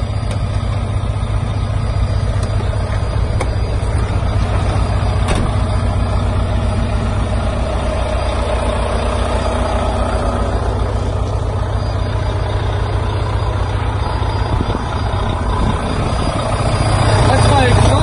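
A truck idles steadily while being checked for an exhaust leak, its low engine rumble constant and close for the whole stretch with no revving, accompanied by faint mechanical noise but no talking.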